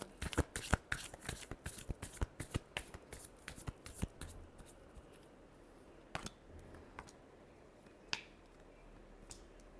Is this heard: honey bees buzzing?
no